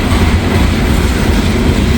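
Coal train cars crawl past slowly in snow, a loud, steady rumble with rolling clickety-clack from the wheels, close by and without voices.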